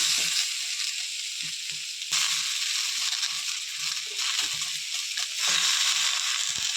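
Malabar spinach dropped into a hot pan with mustard paste, crackling in a loud, continuous sizzle with occasional stirring scrapes and small bursts as the leaves shift.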